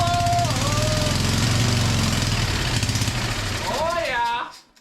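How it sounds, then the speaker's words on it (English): An old Jacobsen engine runs with a loud, rapid, rough chugging that suddenly cuts off at the end, while a person talks over it. "once you hear that engine just purr"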